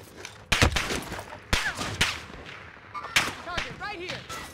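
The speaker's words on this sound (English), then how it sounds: "They're shooting from there." Rapid bursts of gunfire in the Call of Duty: Cold War / Warzone shooter, sharp cracks at close range with a few separate volleys spread across the moment and voices faintly mixed underneath.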